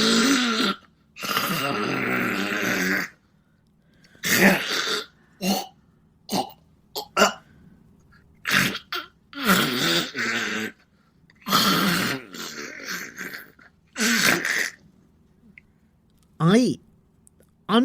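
A person imitates a cat coughing up a furball with repeated gagging, hacking and throat-clearing bursts separated by short silences. The sounds are close and loud, and a few brief vocal noises sit between the retches.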